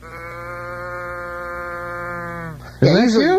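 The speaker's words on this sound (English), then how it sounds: "turn them upside down. They make that little mooing noise" A toy cow gives a long, droning mechanical moo that holds steady and then sags in pitch, followed by a short voiced sound.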